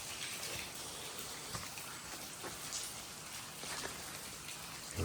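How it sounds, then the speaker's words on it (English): Water drips and trickles steadily beside a rock arch at a camping spot, a soft wet patter of scattered drops close by with no voices. "Especially listening to the water dripping."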